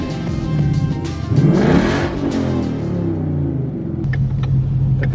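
Straight-piped Ford Mustang GT V8 with a six-speed revving hard up close, a loud rising roar that peaks and falls back into a deep burbling idle, rumbling steadily throughout.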